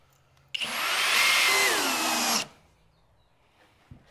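Power drill driving a 3-inch screw into the hull of a 14-foot boat under construction: one close, loud whine lasting about two seconds, pitch shifting as the screw bites, then quiet.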